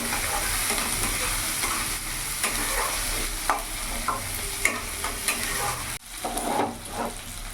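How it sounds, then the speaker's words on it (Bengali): Chopped onions frying in a pan, a steady close sizzle with intermittent scraping stirs and a brief clatter near the end, with no talking. "পেঁয়াজটা একটু ভাজা ভাজা করে নেবো।"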